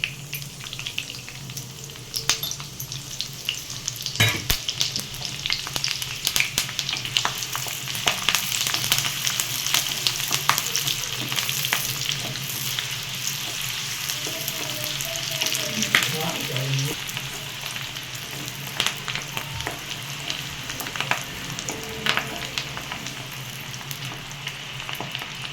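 Onions, green chillies and curry leaves sizzle steadily in hot oil for a brinjal chicken keema, a continuous close frying hiss with occasional crackles and stirring clinks, no voices.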